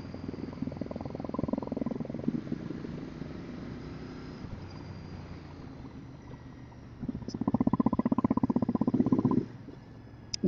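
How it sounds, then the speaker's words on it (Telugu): A Royal Enfield Interceptor Bear 650 motorcycle engine pulls hard in two rising bursts of throaty, pulsing revs. The first is brief, then a quieter stretch follows before a longer, louder push near the end. "జస్ట్ ఇట్లా అంటే వెళ్ళిపోతుంది బైక్ అయితే"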